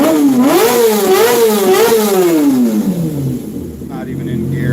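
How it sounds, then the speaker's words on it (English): A powerful engine is revved hard out of gear, its pitch swooping up and down through a few loud surges before falling away, while a person talks over it. "it literally has so much power that when you rev it"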